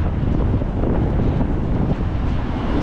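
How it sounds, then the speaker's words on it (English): Strong wind on the Blackpool promenade buffets the microphone with a loud, steady roar and low rumble for a few seconds, with no voices. "It's very windy."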